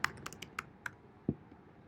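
Keystrokes on a computer keyboard as a search keyword is typed into an online keyword tool: about half a dozen sparse, light clicks, close but quiet, with no talking.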